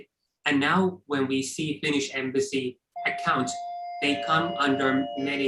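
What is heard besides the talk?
doorbell ringing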